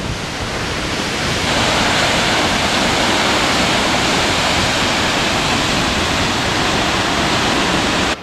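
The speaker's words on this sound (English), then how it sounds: "the water is flowing strong" A strongly flowing wilderness waterfall in the Kakwa Wildlands in mid-September, a loud, constant broadband roar of rushing water that swells slightly early on and then holds steady, with no voices.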